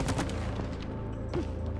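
Rapid bursts of gunfire from the shooting mini game in the video game It Takes Two, sharp repeated shots over a busy game soundtrack, with no voices.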